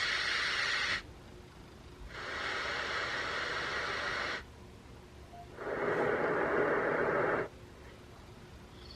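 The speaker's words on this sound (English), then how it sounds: "there's other categories like, you know, just kind of like static type sounds" A night light sound machine plays broadband static hiss in three separate bursts of roughly two to three seconds each, the last one lower-pitched, with quiet pauses between them and no talking.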